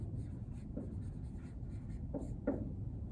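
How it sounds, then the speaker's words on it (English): Quiet scratching and tapping of a marker or chalk writing on a classroom board, a few soft strokes over steady room noise with no speech. "So I'll also write that here on the board."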